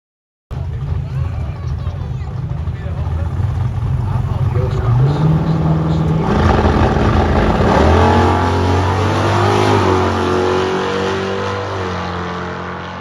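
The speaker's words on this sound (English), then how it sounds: "I like to watch some racing while we're out here too" Drag racing cars at Famoso drag strip during HRG Day, with a loud engine revving and accelerating, its pitch climbing steadily before holding a sustained roar over nearby crowd noise.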